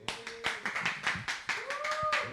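A handful of slow, distinct claps ring out close by, about a dozen in a loose rhythm, with faint tonal sounds drifting underneath.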